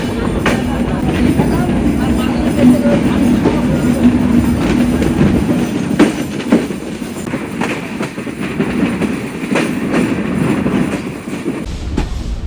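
The Sagardari Express pulls away from Darshana halt on a rainy afternoon, its wheels rumbling and clacking steadily over the rails, close and loud throughout, with a voice talking over the running noise.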